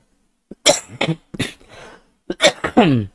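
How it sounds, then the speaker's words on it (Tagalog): Several sharp, close coughs come in quick bursts, separated by brief pauses, loud and raspy. "Itong ubo natin"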